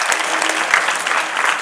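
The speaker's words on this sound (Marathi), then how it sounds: "म्हणून शेतकरी बचत गटाच्या सर्व सदस्यांसाठी एकदा जोरदार टाळ्या वाजवायच्या." A crowd at a devotional kirtan gathering claps together in a dense, continuous round of applause, close and steady throughout with no pause.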